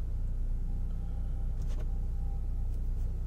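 A 2009 Acura TSX idles after a fuel injector replacement, its engine giving a steady low rumble with vibration, continuous and close with no voices.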